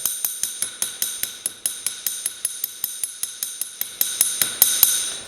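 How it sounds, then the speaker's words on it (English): A small hammer taps rapidly on copper sheet leaves to texture them, producing a steady run of about twenty sharp, bright metallic strikes, close and clear, growing slightly louder and quicker toward the end. "I'll just take a little hammer like this and just go through and make sure every one of those gets some texture"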